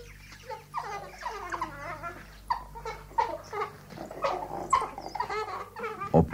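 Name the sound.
pack of African wild dogs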